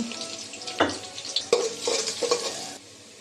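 Chopped onions frying in oil with cardamom, bay leaves and cloves, a soft sizzle broken by several stirring scrapes and clatters of a utensil in the pan, close and moderately loud.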